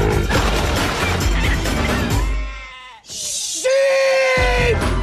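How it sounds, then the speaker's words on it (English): Sheep bleat loudly in a film scene, a couple of drawn-out wavering cries following a burst of noisy crashing commotion, with a short shouted voice in between. "Sheep!"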